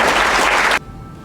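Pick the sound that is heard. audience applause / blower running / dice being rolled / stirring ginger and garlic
audience applause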